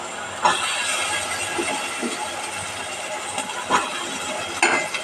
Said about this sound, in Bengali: একটু দিয়ে আগে নাড়চাড় করে নিলাম